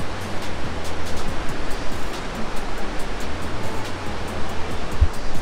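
Water pours down the La Cascata waterfall, heard nearby as a loud, steady broadband rush with no talking.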